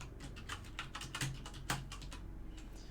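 Password keys tapped on a computer keyboard during an Ubuntu setup, a quick run of crisp, close clicks with brief pauses and no talking.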